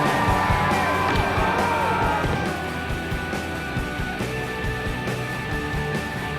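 A large outdoor crowd in China roars and whoops as a skateboarder pulls a 360 over a huge wall, loud cheering that peaks early and then settles into a steady, slightly softer crowd roar.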